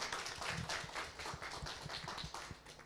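An audience claps for a participant at a panel event on women in hardware, producing faint, scattered, uneven applause from a small group that fades out toward the end.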